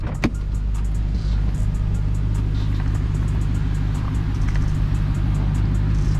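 A Ram TRX pickup truck drives along, heard from inside the cab as a steady, loud low engine rumble with constant road noise and no one talking.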